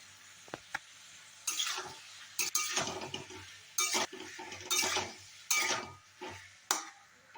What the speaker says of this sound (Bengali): এবারে আমি আলুগুলোকে ভাজা, এতগুলো আলু দিয়েছি দুবেলাকার পর।